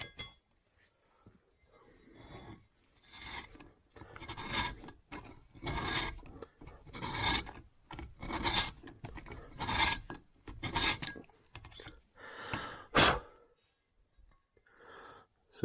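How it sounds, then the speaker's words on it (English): A 45-degree valve seat cutter rasps around a motorcycle cylinder head's valve seat, cutting the sealing angle in a string of repeated scraping strokes, close and fairly loud, with no talking. "Take our 45 cutter and do a couple of swoops"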